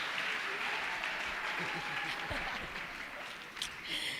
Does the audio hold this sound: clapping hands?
yes